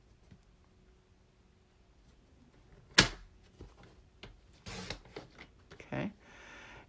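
A paper trimmer slices through cardstock in a few short, sharp cuts and clacks, quiet and close, separated by pauses of near silence.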